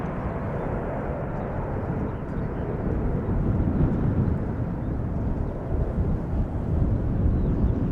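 An airliner takes off at Schiphol Airport, and its jet engines make a loud, steady, broadband roar that swells slightly and sustains throughout, close and dominant, with no talk over it.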